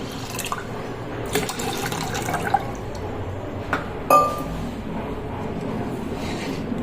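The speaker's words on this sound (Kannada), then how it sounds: "ಈಗ ಇದಕ್ಕೆ ನಾನು 1 ತಂಬಿಗೆಯಷ್ಟು ನೀರು ಹಾಕೋತಿದ್ದೀನಿ" About a tumbler of water is poured into a cooking pot, giving a steady close-up sloshing fill with a few brief clinks and splashes.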